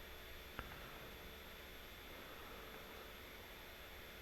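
A steady low engine hum drones without a break in the horror game Don't Scream, with a faint high tone over it and one brief click early on.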